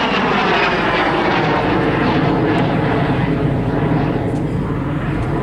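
A de Havilland Vampire FB52, a single-engine Goblin-powered jet fighter, roars overhead at an airshow with a steady, loud, continuous engine noise throughout.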